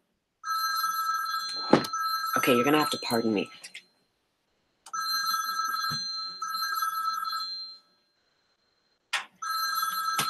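A telephone rings in repeated electronic bursts with short pauses between them, and a person speaks briefly over the first ring.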